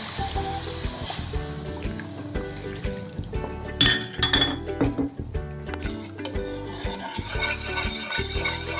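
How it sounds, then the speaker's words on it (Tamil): Milk pours into a pan for Indian-style white sauce pasta amid bright clinks of utensils against cookware and a soft liquid splash, close and busy, over tonal background music. "இந்த ஸ்டேஜில் பால் ஆட் பண்ணிக்கோங்க."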